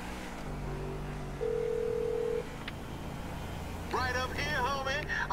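Phone call tones in Grand Theft Auto V: a low steady ringback tone sounds for about a second, then a brief tone burst, and near the end a voice begins speaking over a quiet background engine hum.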